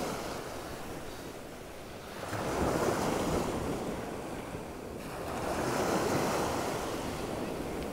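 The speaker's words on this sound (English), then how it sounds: "Got a bit of wind slightly picking up now" Wind gusting across a beach by the sea at Waxham on the north Norfolk shore, a steady broadband rush that swells twice with surf, with no talking.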